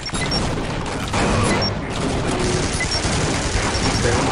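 Dense, loud gunfire from Team Fortress Classic, with shotgun blasts and grenade explosions in a constant wall of noise, with sharp overlapping bursts throughout.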